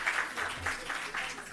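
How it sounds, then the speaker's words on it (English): Short burst of audience applause for a panel at the 2025 South Africa Rural Investment Summit, steady rhythmic clapping from a nearby crowd lasting just over a second. "Can we give them a round of applause"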